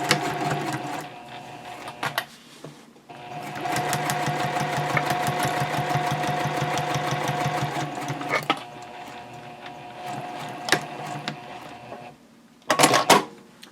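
A sewing machine stitches a quilting line on a fabric nested basket in long steady rapid runs, its fast mechanical hum pausing briefly between passes and ending in a short final burst.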